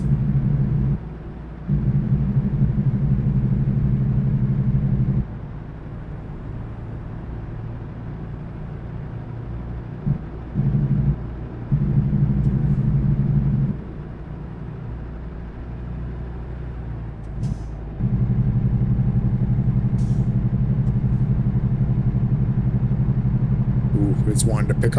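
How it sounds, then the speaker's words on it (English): Heavy truck engine braking in American Truck Simulator, a deep chugging rumble that drops out and returns in long stretches while someone talks over it. "Use a little more engine brake here."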